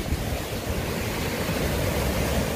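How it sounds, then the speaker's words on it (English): Waterfalls Creek runs high with snowmelt along a backcountry trail near Pinto Lake, rushing loud and steady. The dense churning hiss fills the moment with no voices. "Crazy how much more water's coming through here than a month ago."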